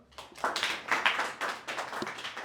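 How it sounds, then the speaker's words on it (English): A small group claps briefly after a group discussion, a few seconds of scattered, uneven hand claps, moderately near and fairly light, with no talking over it. "You must clap for."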